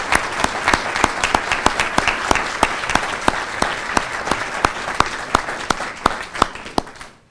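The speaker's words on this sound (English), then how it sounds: "we all recognize Jerry with a round of applause" An audience at a dedication ceremony breaks into steady, sustained applause of many hands clapping, which fades out toward the end.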